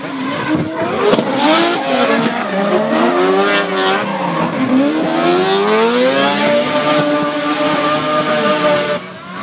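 Drift cars at a D1NZ drifting championship round in Taupo, the Red Bull RX-7 and V-Energy Skyline, scream through a pass with loud, sustained squealing tires and wailing, revving engines close by.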